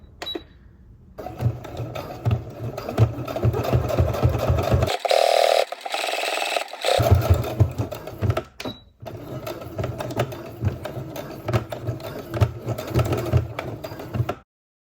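Close, loud whirring rattle of a sewing machine running a straight stitch on a garment top, in bursts of several seconds separated by brief pauses, with no voices.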